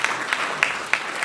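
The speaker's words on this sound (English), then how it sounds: "Can we give him a round of applause?" Brief burst of audience applause at a live panel event honoring a guest panelist, steady dense clapping with a few sharper claps standing out, moderately loud and without talk.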